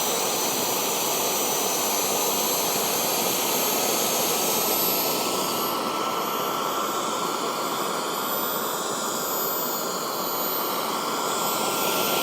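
A Kingtech K45G4 model jet turbine runs on a test bench with a loud, steady high-pitched whine and broad roaring rush that holds constant throughout, with a slight shift in tone partway through and no talking.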